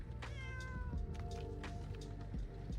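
A pet cat meows a few times, close and clear, over a dense rumbling background of tank battle game sound.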